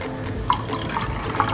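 Water is poured into a cup, to be heated for oats roti dough, with a short run of liquid splashes and drips, close and fairly clear, with no speech.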